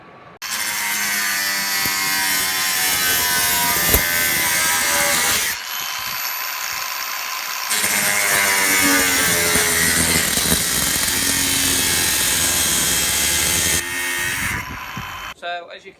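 A power tool cuts through an aluminium sheet for a shed, a loud sustained whining buzz that runs for several seconds, pauses briefly, then resumes before stopping; a person speaks at points.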